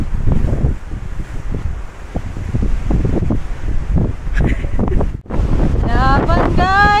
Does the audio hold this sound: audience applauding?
no